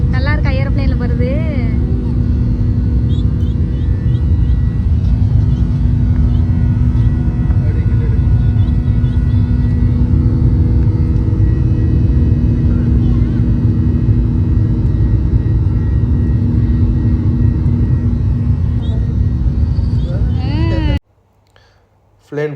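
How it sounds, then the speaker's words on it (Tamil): Passenger airplane taking off from a domestic airport in Thailand, heard from inside the cabin as a loud, steady engine roar and rumble that holds for about twenty seconds before cutting off abruptly. "டொமஸ்டிக் ஏர்போர்ட்லேருந்து டேக் ஆஃப் ஆகுது எங்கள் ஃப்ளைட்டு"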